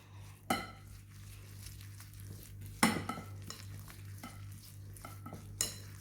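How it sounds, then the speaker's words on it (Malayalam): Masala mixed by hand in a bowl for a chicken charcoal marinade, with soft, quiet squelching and a few sharper knocks against the bowl over a low background hum, no speech. "ഇനി നമുക്കിത് ഈ മസാലയെല്ലാം നല്ലപോലെ മിക്സ് ചെയ്യാം. കൈ കൊണ്ട് തന്നെ മിക്സ് ചെയ്യുക"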